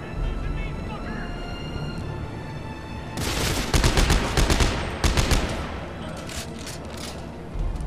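Loud bursts of Dead Space 3 gunfire in rapid, crackling volleys, beginning partway through and repeating in clusters over a steady game background hum, with a person talking over the action.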